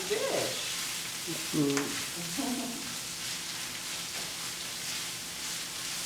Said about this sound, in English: You definitely want those onions to cook down in that ground beef.